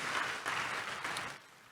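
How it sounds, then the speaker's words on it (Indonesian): A church congregation at a Sunday service claps together in a dense, lively burst that fades near the end. "Kasih tepuk tangan yang meriah untuk Tuhan Yesus."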